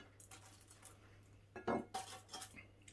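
Dishes clink as garlic bread is set onto plates: quiet scattered taps and a sharper clatter midway, with a low steady hum underneath and no talking.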